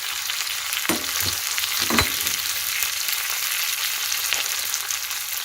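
Something fries steadily in a pan for temple-style prasadam rice, a constant close sizzle with a couple of faint stirring knocks and scrapes.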